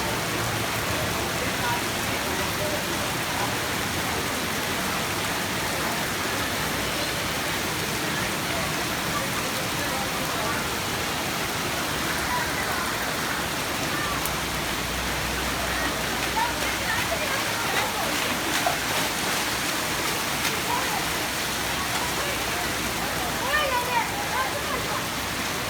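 Fast-flowing floodwater surging through a flooded residential area after heavy monsoon rain, a steady loud rushing roar filling the whole clip without pause.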